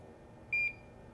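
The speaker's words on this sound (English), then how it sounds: "you heard that beep" A HAKKO FX-805 heavy-duty soldering station gives one short, clean electronic beep on confirm, a single bright tone over a quiet room hum.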